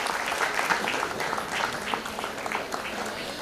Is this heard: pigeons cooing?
no